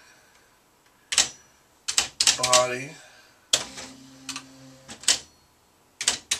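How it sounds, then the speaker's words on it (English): An old manual typewriter clacks through bursts of keystrokes with a carriage ratchet and bell-like ring, close and loud, with a brief word spoken between strikes. "typing on this old typewriter to show"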